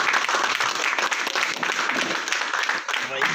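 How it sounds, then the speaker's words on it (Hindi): Applause from a seated audience welcoming a guest speaker, continuous dense clapping at moderate level with some voices mixed in beneath it. "बहुत जोरदार तालियां।"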